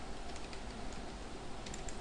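Computer keyboard keys tapped steadily while entering data in a Microsoft Excel 2007 spreadsheet, soft close clicks over a constant background hiss with no talking.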